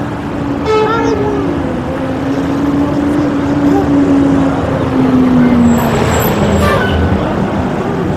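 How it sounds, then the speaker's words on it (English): A party bus limo on a hot Las Vegas street sounds a long, steady horn note lasting several seconds, loud and close amid traffic, with a brief second honk near the end. "That's a party bus limo."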